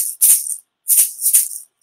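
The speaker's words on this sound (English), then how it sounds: "I play the egg shaker, that's for you to listen for what we're doing." An egg shaker plays a simple rhythm in a music class, making three crisp, hissy shakes in an even pattern. The shakes are close and clear with brief silences between them.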